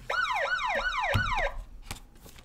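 A wailing siren sweeping up and down in four quick repeated cycles, loud and close, cutting off abruptly with a sharp knock, followed by a few faint clicks.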